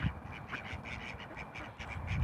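Domestic and wild ducks quack in a steady stream of close, overlapping calls with no pauses and no voices.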